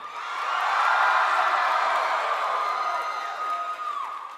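A large convention panel audience at PAX West cheers loudly and steadily for several seconds, a dense wash of shouts and whoops that swells early, then slowly tapers.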